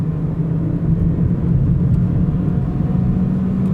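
Engine of a 2024 Mazda 2 facelift with a 6-speed automatic gearbox, a steady loud low rumble from inside the car as it is driven and downshifted, without talk.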